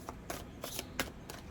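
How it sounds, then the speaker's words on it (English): A deck of cards being shuffled, quick riffling bursts repeating in a brisk rhythm, close and fairly quiet. "me get a good shuffle in"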